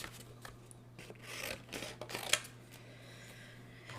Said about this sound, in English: And for that I'm going to use my smaller snips, Stampin' Up! Snips.